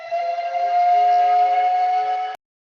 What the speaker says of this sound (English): this is their hourly whistle, so we're going to wait a second until Marilyn is done surviving a whistle.